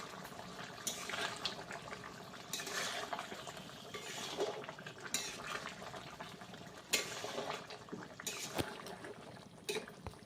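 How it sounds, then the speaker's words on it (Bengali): Stirring mustard paste into patol in a pan makes soft, quiet wet scrapes and squelches that recur in irregular bursts every second or two, with no talking. "তো সর্ষে বাটাটা দিয়ে আমি ভালো করে একটু নেড়ে নেব"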